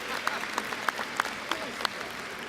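Scattered applause from an audience at a college commencement ceremony, a thin patter of claps with a few sharper individual claps standing out.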